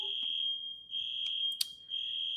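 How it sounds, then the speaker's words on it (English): A fire alarm beeps with a shrill, piercing tone in long sustained blasts separated by brief gaps, plus a couple of short clicks. "And now my fire alarm is going off."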